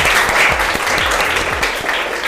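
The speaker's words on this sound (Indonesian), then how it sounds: "Tepuk tangan buat semua." Applause from a class of eleventh-grade students in a morning school lesson, dense and steady for the whole stretch, close and loud, with a few low thumps beneath it.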